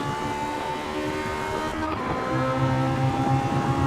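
A race car accelerating hard in fourth gear down the straight at Phillip Island, its engine a steady, loud, rising drone heard from inside the car with no talk over it.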